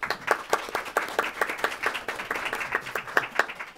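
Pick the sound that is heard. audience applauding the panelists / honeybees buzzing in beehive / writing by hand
audience applauding the panelists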